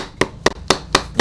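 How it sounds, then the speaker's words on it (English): A hammer taps cork onto a shoe last while lasting an Air Jordan 1 sneaker, five sharp evenly spaced knocks in quick succession, close and clear with no talking. "I want to hammer the cork in that area"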